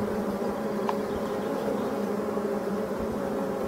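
Black bee drones from a forest colony buzz in a steady, dense hum, close and continuous with no pauses, and no voices over it.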